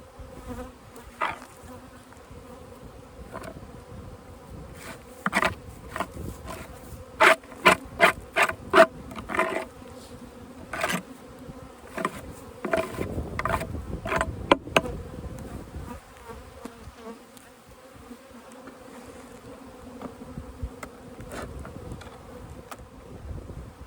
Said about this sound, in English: A lot of bees.